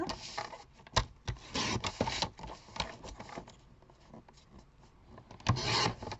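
Scissors cut paper for a Christmas table name card, giving close, irregular snips and rasping cuts in uneven bursts with short pauses between them.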